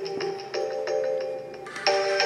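A telephone rings in a room where a wood carving of a Native American woman with a blanket is under way, a repeating electronic ringtone of bright warbling tones that pulses several times and grows louder near the end, with no voices over it.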